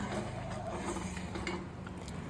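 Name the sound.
stirring triple fruit payasam in a pot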